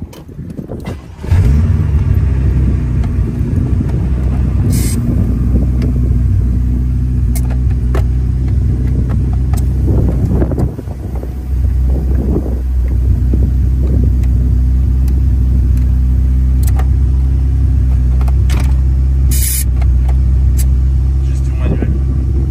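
An Audi A5 drives through strong wind and a sandstorm, its steady engine rumble and roar of buffeting air filling the cabin continuously, with people talking over it.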